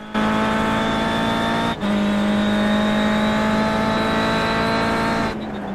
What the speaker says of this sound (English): But listen to the sound of that turbocharged 4.